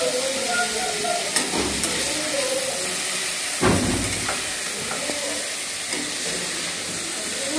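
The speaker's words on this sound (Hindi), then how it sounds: "अब इसी में आलू डालकर भुनेंगे।" Potatoes frying and being stirred in a pan for a spicy broad bean and potato curry, a steady sizzle with a few scraping stirs, close and moderately loud, no talk.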